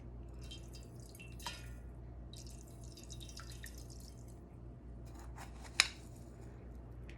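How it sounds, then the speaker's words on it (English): Lye is poured slowly into water for making watermelon salt soap, giving faint, sparse trickles and small drips over a low steady hum, with one sharper click near the end. "we're going to go ahead and add the lye to the water slowly"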